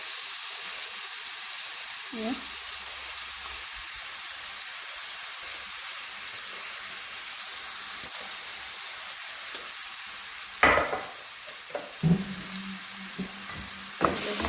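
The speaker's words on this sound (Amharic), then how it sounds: "ከዛ ሽንኩርት እንደዚህ ጨምርበትና እንሰራለን ማለት ነው።" Onions fry in oil with a continuous hiss and sizzle, joined near the end by a few louder clatters and stirring bursts as the pan is worked.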